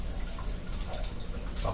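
Water trickling from a lab chamber drain valve that is opened only slightly: a steady, close running trickle with small drips and splashes throughout, with no talk over it.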